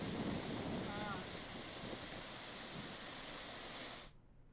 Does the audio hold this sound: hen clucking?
no